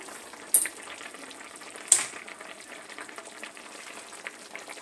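Raw banana curry frying with spices and ghee in a pan gives a steady soft sizzle, with two sharp clicks of a utensil against the pan.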